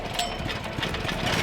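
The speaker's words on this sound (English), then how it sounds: "So now we've got the motor started." Motor of an Aus Agro mini silage wrapper running steadily after starting, a continuous, fairly loud mechanical drone with fast rhythmic pulsing and no pauses, heard close.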